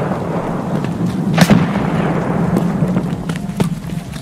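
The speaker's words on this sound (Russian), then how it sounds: "Моя граната пошла." A grenade blast in the shooter game Escape from Tarkov, a sharp broadband burst standing out near the middle over a steady low rumble, followed by a few fainter thuds.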